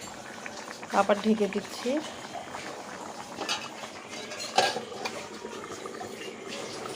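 A pot of hilsa fish curry with potatoes boils under a lid, a soft continuous bubbling with a brief lid clatter early on, while someone talks over it.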